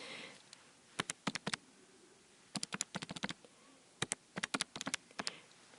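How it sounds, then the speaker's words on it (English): Short bursts of quick, light key presses on a calculator as numbers are entered, clustered in three rapid groups with pauses between, close and fairly quiet with no talking. "Typing that into my calculator"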